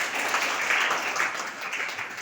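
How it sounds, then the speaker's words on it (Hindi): Children and guests at a school science and welcome program clap together, a dense, moderately loud round of applause that swells slightly in the middle and continues evenly to the end. "ताली बजाएं सभी लोग।"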